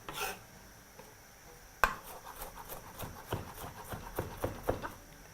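Knife chopping onions on a cutting board, a series of soft, uneven knocks at close range with a sharper cut partway through, no talk.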